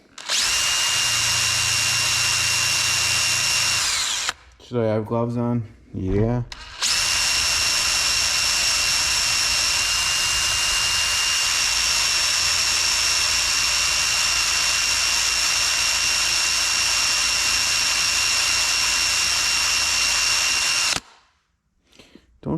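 A power tool grinds the engine valves of a John Deere STX 38 with a loud, steady high-pitched whine. It stops briefly around the middle while someone speaks, then resumes and runs on before cutting off near the end.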